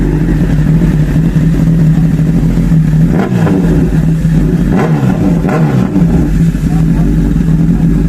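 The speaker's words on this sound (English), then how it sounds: "Honda CBR 1000RR." Honda CBR 1000RR motorcycle engine running loud and close, holding a throaty idle with a couple of brief revs rising and falling midway.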